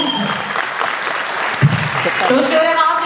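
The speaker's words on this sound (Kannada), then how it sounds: "ಅತ್ಯುತ್ತಮ ನಟಿಗೆ ಚಪ್ಪಾಳೆ ಅಷ್ಟೇ ಅತ್ಯುತ್ತಮವಾಗಿ ಬರಬೇಕು" Audience applause at a Kannada film critics' awards ceremony as the best actress award is presented, a broad steady clatter of clapping running throughout with voices mixed in.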